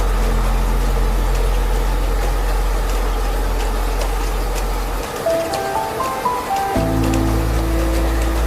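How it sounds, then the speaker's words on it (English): Rain falls against glass at a Victorian train station, a soft continuous patter over a low mechanical hum, with a calm ambient tone in the background. "The rain against the glass, falling and falling and falling."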